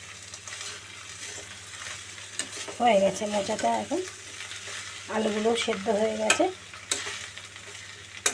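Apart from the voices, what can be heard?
banana flower frying and being stirred in a pan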